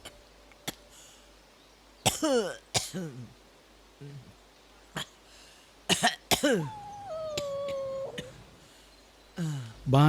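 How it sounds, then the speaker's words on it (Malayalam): Someone in a home coughs and hacks heavily, with several harsh bursts and throaty, rasping fits spread across the stretch, loud and close amid quieter gaps and a short vocal sound. "അതെടുത്ത് വലിച്ചിട്ടേ ഒടുക്കത്തെ ചുമയും കൊരയും"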